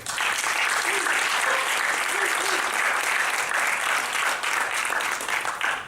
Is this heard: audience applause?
yes